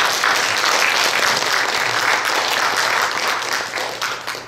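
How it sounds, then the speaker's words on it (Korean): A church congregation at a Sunday worship service gives a sustained round of applause, dense and loud, fading slightly toward the end. "여러분 격려의 박수 한번 주시면 고맙겠습니다"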